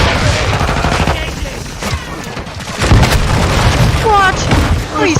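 Mortar blasts and gunfire in Modern Warfare 2, loud booms and bursts rumbling together with rattling shots over several seconds, heavy and close, with game voices chirping in the mix.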